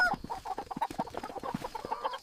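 A fox imitates a hen's call, rendered as a quick run of clucks and short chicken-like calls, close and fairly quiet, lasting about two seconds.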